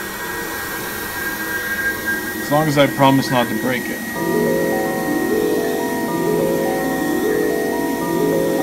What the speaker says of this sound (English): Having a blow dryer on hand is a must.